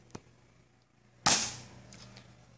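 A Jolt blaster fires a suction cup dart at a target: a single sharp, loud pop near the middle, preceded by a faint click and followed by a brief decaying rattle.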